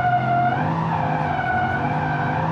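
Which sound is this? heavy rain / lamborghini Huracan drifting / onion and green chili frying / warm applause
lamborghini Huracan drifting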